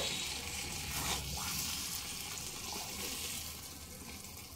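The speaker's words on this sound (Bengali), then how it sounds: "এই পর্যায়ে দেব গরম জল।" Hot water pours steadily into cooked mung dal in a pot, a continuous rushing splash that stays even for several seconds with no voices.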